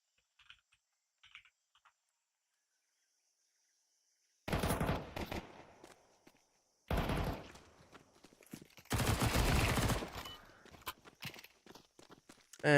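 Pistol fire rattles in an esports video game match, in three dense clusters of rapid, sharp shots after near silence, loud and close with no commentary over them.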